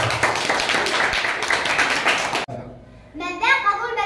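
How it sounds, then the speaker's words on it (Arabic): Pupils and staff at a primary school Knowledge Day ceremony clap together in a loud, dense burst of applause that stops abruptly, followed by a voice speaking. "صفقوا عليه"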